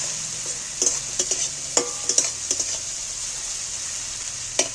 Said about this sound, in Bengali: রসুনটা তেলের উপর একটু পেঁয়াজের উপর নেড়ে নিচ্ছি